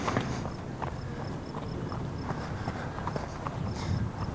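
Horse hooves clip-clop at an even walking rhythm on a hard surface during riding training, fairly close, over a low steady background rumble.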